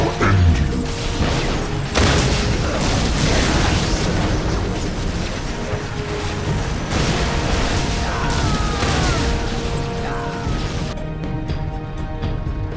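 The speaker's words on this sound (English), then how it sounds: "Let the grenades fly!" Grenade blasts and battle noise from Dawn of War, the Warhammer 40K strategy game: heavy booming explosions and crashing impacts over a steady rumble, fairly loud and continuous.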